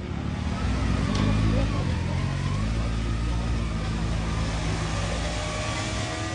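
A vehicle engine runs and revs steadily on a power-testing dynamometer at the former Solitude racetrack, with a continuous low droning tone throughout and faint background noise.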